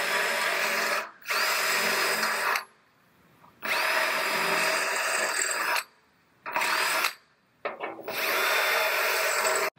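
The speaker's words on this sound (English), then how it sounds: "So as I'm drilling these out" Power drill boring out spot welds on a car body panel in a bodyshop, several loud high-pitched whining bursts of a few seconds each separated by short pauses, close up with no talking.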